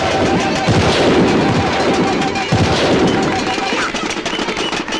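Gunfire salute at a ceremonial send-off at a temple-style gathering, a dense, continuous crackle of shots, loud and close, with voices mixed underneath throughout.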